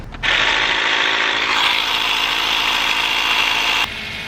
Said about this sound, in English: this is a little air compressor thing, and when I turn it on, this is the noise that it makes